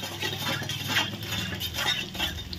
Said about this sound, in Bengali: চিনিটা যাতে গলে যায় সেইভাবে আমি গুলিয়ে নেব।